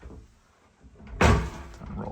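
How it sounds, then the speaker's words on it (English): A sliding pocket door inside a Prevost luxury bus rolls shut on its rollers with a single sharp thunk, close by, after a quiet stretch of faint room noise. "And there's another pocket door at the bedroom side."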